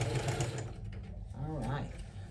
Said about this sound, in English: So basically you're sewing down the pocket. Back stitch.